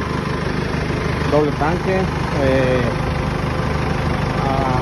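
A HATTAT 398 4wd cab tractor idles with a steady, low diesel rumble running underneath someone speaking Spanish nearby.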